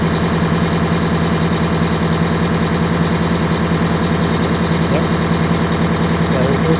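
A diesel engine idles close by with a rapid, steady clatter, its rhythm wavering only slightly from a fuel-system stutter, while someone talks over it.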